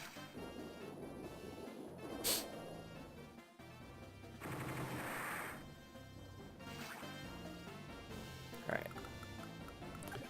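Weapon fire from the video game Advance Wars: Dual Strike, with quiet bursts of rapid game gunfire, a short crash and sharp blasts over background game music.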